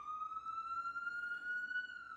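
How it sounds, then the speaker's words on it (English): A Vancouver, British Columbia emergency siren passes by outdoors, a steady, slowly rising wail that sounds loud and close for the full stretch with no voices. "wait till the siren rolls by."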